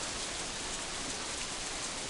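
Steady rain pours down in Katawa Shoujo, a dense, even hiss of falling drops that stays constant and fairly close throughout, with no voices over it.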